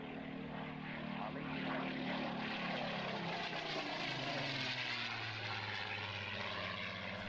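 A Supermarine Spitfire Mark 14 fighter plane makes a display pass, a loud continuous propeller engine roar whose pitch drops as it sweeps by, steady and dominant throughout.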